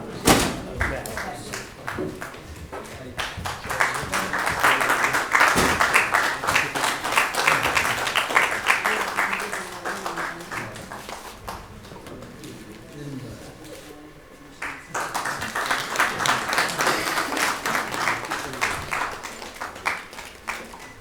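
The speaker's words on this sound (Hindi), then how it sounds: "जोरदार तालियों से स्वागत करें, अभिनंदन करें" An audience claps to welcome the cast of the stage play Aadhi Raat Ke Baad as the performers come onto the stage. Applause is sustained, fades partway through, then swells again, with voices talking over it.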